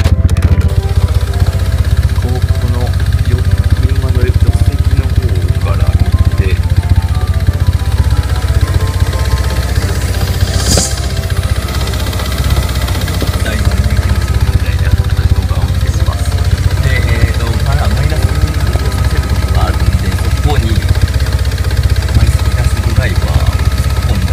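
A small engine idles steadily while its idle speed is being adjusted, a constant low rumble that runs throughout. Someone talks over it for much of the time.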